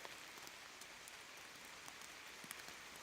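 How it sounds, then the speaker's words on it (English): Steady rain patters at a campsite, a dense soft hiss of drops with a few sharper taps, no voices. "you might be able to tell it's raining."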